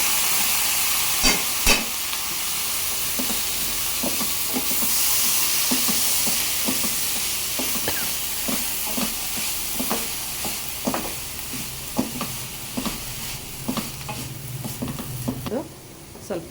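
Ground turmeric fries in hot oil in a pan for a Kannada home-style dish, giving a steady close sizzle and hiss with repeated scraping stir strokes throughout.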